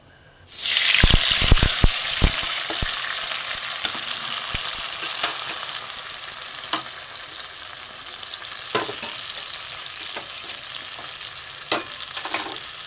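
Mustard and poppy seed paste hits a hot pan for a brinjal curry, bursting into a loud, sudden sizzle that settles into steady crackling frying with occasional sharp pops.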